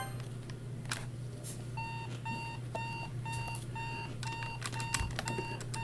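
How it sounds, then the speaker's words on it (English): Alarm clock going off in a Doki Doki Literature Club mod video game, a steady series of short, bright electronic beeps repeating in quick bursts over a low background hum. "I hear my alarm clock going off"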